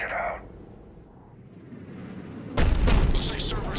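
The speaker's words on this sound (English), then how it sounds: "Looks like Cerberus got that cannon operational, Commander." Cannon fire in the Mass Effect 3 video game: a loud, sudden blast bursts in over the second half, following a quieter stretch of low rumbling ambience.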